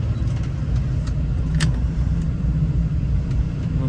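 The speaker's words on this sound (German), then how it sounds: "Dann fahren wir wieder raus aus dem Mercedes-Werk." Car driving out of the Mercedes factory grounds in Sindelfingen, a steady low engine and road rumble heard from inside, with faint light clicks and rattles over the continuous drone.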